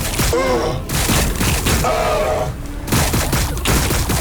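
Rapid volleys of gunfire and booms from the video game Warhammer 40k Battlesector, dense loud bursts with pauses between them and a deep in-game voice shouting over the battle.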